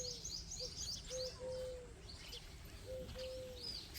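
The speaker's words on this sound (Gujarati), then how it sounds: "ને પંખી કિલોર કરે" Small birds chirp and tweet in short, quick bursts around a quiet farm field, with a lower whistled call drawn out twice in between. All of it sits faintly over a low, steady background hum.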